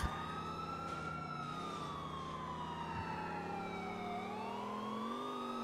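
An ambulance siren in the GTA video game wails continuously, its pitch sweeping slowly down and then back up. It rings loud and steady over a low engine rumble, with no one speaking.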